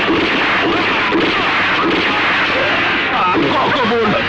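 Gunfire outside during a scene in a Bangla action movie: a dense, continuous clatter of shots and bursts heard from a distance, mixed under a busy soundtrack with a voice speaking at the end.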